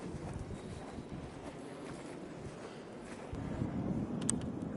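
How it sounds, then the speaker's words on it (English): A southeast wind picks up outdoors on a Colorado mule deer hunt, a steady low roar with microphone buffeting that grows louder and gustier toward the end. "And now it's starting to kick up again. Kind of a southeast wind."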